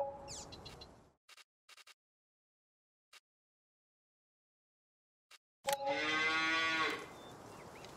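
Two video game cows in a livestock trailer moo, one at the start and one near the end, separated by silence broken by a few tiny clicks.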